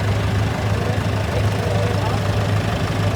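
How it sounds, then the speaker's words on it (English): A 1975 Massey Ferguson 14 garden tractor, rated at 14 horsepower, runs steadily with a loud low engine drone during a steam and gas show parade, while a voice speaks over it. "Mr. Lane is driving. It's a 75 model Massey 14."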